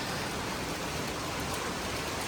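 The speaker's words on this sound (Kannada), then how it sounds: "ಜೋರಾಗಿ ಬರ್ತಾ ಇದೆ ಮಳೆ." Rain drums on a metal sheet roof, making a dense, steady hiss of patter that holds without a break and with no voices.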